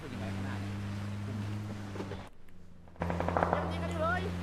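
Gunfire in the battle royale game PUBG, bursts of rapid shots over a steady engine drone while a vehicle is driven, a short dropout midway, then louder sharp cracks return.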